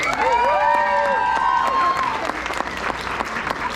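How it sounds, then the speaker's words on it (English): Crowd at an outdoor Baisakhi fair breaking into applause and cheering, loud sustained clapping with whoops and voices, while a tonal musical sound fades out early under the crowd noise. "Give them a round of applause."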